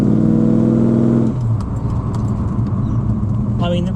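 An old Ford XW car drives around the block with ageing brakes, its engine humming low and steady, shifting tone partway through, with a faint tick and a voice talking near the end.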